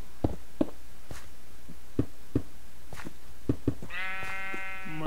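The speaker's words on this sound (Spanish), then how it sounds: "Se van a meter las ovejas a mi casa" Sheep bleat in a video game, a loud harmonic bleat near the end following a scatter of short knocks and footsteps over a quiet backdrop.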